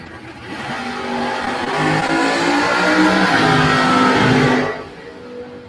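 Drag race launch of a 1989 Pontiac Firebird and a Chevrolet Malibu station wagon wheelie wagon, engines roaring loud and building together for several seconds before cutting off sharply.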